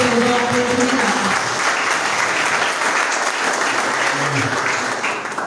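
A church congregation at a Brazilian service claps hands steadily and densely throughout, a continuous, loud wash of applause with faint voices mixed in.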